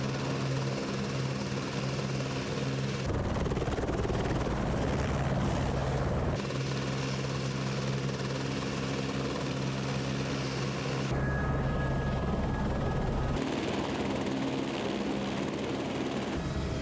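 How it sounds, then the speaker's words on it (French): A helicopter flies nearby, its loud, steady rotor and engine roar continuing throughout with slight shifts in tone and no speech. "on peut envisager un transport par hélicoptère"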